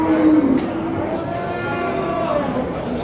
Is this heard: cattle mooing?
yes